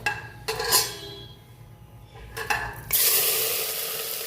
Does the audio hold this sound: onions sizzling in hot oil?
yes